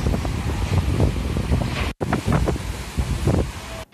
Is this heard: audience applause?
no